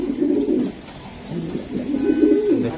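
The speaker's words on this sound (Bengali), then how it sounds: "পাল্লা লাইনের কবুতর আমি একটু দেখাই দিই" Giribaz high-flyer racing-line pigeons cooing close by, two rounds of low throaty rolling coos separated by a short pause, with no talking.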